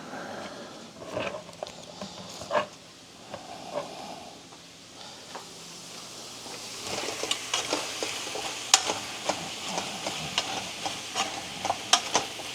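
Squid and red pepper stir-fry in hot oil in a pan, with steady sizzling and repeated scraping stirs that grow louder and busier toward the end, close up.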